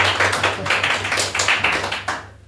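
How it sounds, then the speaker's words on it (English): An audience at a talk in Kenya claps in a quick round of applause, a dense patter of hand claps that holds steady for about two seconds and then thins out and fades. "I think he deserves a quick round of applause."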